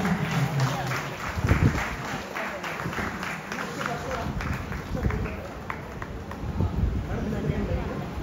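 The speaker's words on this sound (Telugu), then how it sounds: "చక్కగా చప్పట్లు కొట్టాలి మనందరం కూడా." Wedding guests break into clapping, a dense patter of many hands spread across the room, mixed with crowd murmur and voices.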